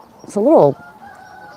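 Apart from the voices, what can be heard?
rooster crowing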